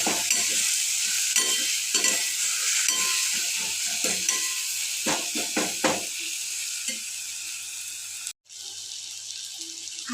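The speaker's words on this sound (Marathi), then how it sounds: "आता एक टोमॅटो आपण कापून घेतला आहे, तो यात टाकायचा आहे। परत एकदा छान हलवून घ्यायचं आहे" Chopped tomato stirred into a hot frying pan for sev tamatar sabji, with a steady close sizzle under repeated scraping strokes of a spoon and a brief break near the end.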